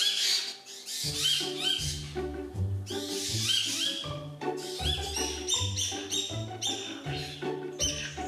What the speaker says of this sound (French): T'entends les oiseaux? Ils commencent à crier